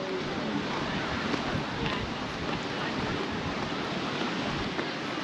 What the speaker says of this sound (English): It really is windy.